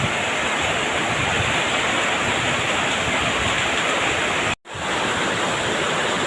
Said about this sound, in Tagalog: Biglang buhos ang ulan, kaya takbuhan ang lahat.